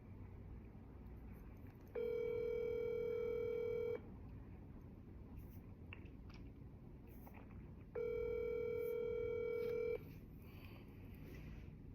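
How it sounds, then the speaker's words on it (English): Two separate telephone dialing bursts, each a steady two-second run of DTMF keypad tones, sound over a low background hum while someone dials a property seller. "dialing."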